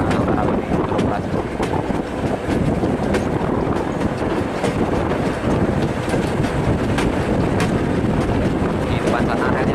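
The Ambarawa tourist train runs steadily on rails, a continuous dense rumble with wind buffeting the microphone throughout, no clear voices over it.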